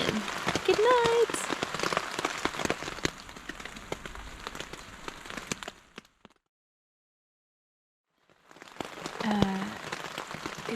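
Rain pattering steadily on a tent at night during a storm under a yellow weather warning, close and dense, cutting out to silence midway before resuming.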